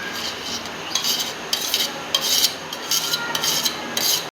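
Garlic and onion being grated over gram flour batter for fritters: rhythmic rasping strokes in short bursts against a grater, close and clear with brief pauses between strokes.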